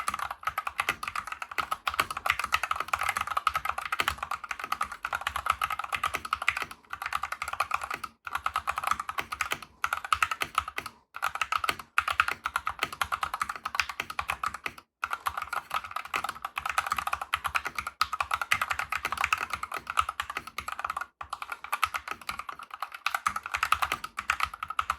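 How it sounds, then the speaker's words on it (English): Typing on a Genesis THOR 404 TKL hot-swap mechanical keyboard: a long run of close, crisp key clicks at a steady, busy pace, with brief pauses and no talking. "let's check out the typing."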